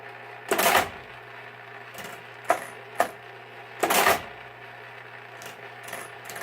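A Marchant mechanical calculator adding in add mode, giving a few separate clattering mechanical bursts, some longer whirring runs and sharper single clacks, spaced irregularly with quiet between them.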